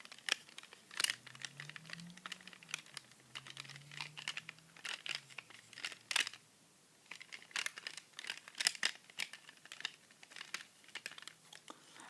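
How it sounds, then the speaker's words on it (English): Plastic wrapping crinkles and crackles in close, irregular bursts of sharp rustles with brief pauses, a low faint hum drifting underneath. "give you guys the plastic crinkling. This is a fun sound"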